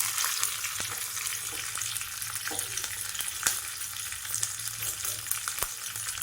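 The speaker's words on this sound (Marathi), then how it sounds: "तेल तापलेलं आहे, यामध्ये कढीपत्ता टाकून घेऊयात, हिरवी मिरची घालून घेऊयात" Curry leaves and green chili crackle and sizzle in hot oil in a tadka pan, a steady bright frying hiss with scattered sharp pops, close and alone.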